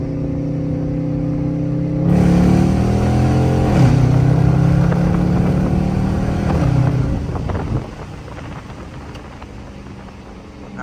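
A Dodge Charger RT engine pulls hard from a 40 mph roll in second gear, a loud rising roar that climbs steadily for several seconds, then drops back to a lower drone; no talking.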